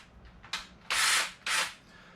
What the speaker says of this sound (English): I'm drilling out this